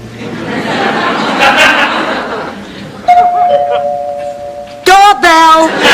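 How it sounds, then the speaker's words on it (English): A doorbell sounds near the end, a bright two-tone chime rung twice after a sustained electronic tone, following a stretch of conversation and light laughter from a studio audience. "Doorbell."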